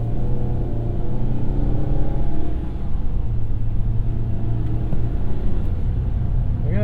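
A 2022 Ford Maverick pickup, front-wheel drive, hybrid or 2.0L, pulls up to speed with a steady, loud engine and road rumble inside the cabin, droning evenly without pause.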